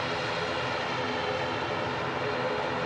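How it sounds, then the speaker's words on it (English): A Singapore Airlines Airbus A350 taxis toward the runway at Manchester Airport, its engines a steady, broad, unbroken roar heard from a moderate distance for a few seconds. "The absolutely unbelievable Singapore Airlines 350 moving closer to that runway."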